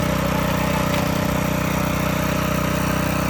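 A tractor engine runs steadily in a muddy Konkan paddy field, a continuous low, throbbing drone with an even mechanical rhythm that stays loud and constant throughout.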